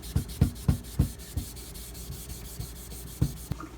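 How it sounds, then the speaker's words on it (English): Rust eraser scrubbed by hand across a 4000 grit diamond matrix sharpening stone for an Edge Pro knife sharpener, a quick run of close rasping strokes, then a pause and two more strokes. "I'm going to go ahead and take my rust eraser. Just scrub that down real quick."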